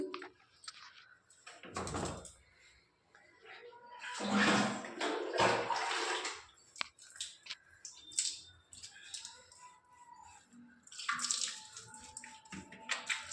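Warm water splashing and running as Oreo the pet is bathed, bursts of sloshing and pouring coming and going close by over about thirteen seconds.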